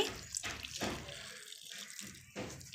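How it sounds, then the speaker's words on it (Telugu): Boiling water pours in a steady splashing stream with short breaks onto gooseberries for pickle, close by and fairly loud, with no talking. "మరుగుతున్న వాటరే పోయాలండి"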